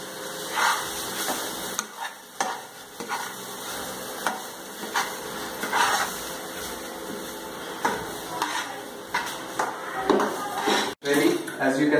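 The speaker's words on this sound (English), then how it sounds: "mix it for a while and this will be done" Dal khichdi of rice, lentils, spices and vegetables being stirred in a pot, with repeated scraping and knocking strokes of a spoon against the metal over a soft background hiss, close by and moderately loud.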